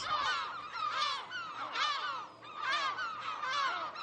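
Gulls call on Fort Cigogne island in the Glénan archipelago, repeating harsh, nasal cries in clustered bursts at a steady, moderate distance.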